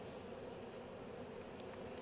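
Honey bees fan at a hive box while nucs are transferred into full-size equipment, a dense, steady buzzing hum throughout, faint and close with no break.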